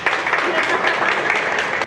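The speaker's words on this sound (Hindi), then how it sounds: "खुशबू के लिए तालियां हो जाए।" A crowd at a motivational success-mindset seminar claps for a participant named Khushboo, a brief burst of dense, fairly loud applause lasting a couple of seconds.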